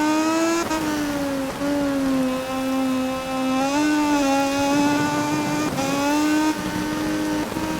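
A Moto2 motorcycle engine in MotoGP 20 screams at high revs while wheelieing out of a corner. The pitch stays steady, then dips and rises again through quick gear shifts, loud and close throughout.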